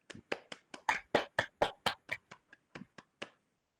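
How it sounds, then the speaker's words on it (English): A single person claps alone at the close of a virtual awards ceremony, about fifteen distinct, close, quiet hand claps in a slightly uneven rhythm, with no crowd. "I think we need to end on a round of applause"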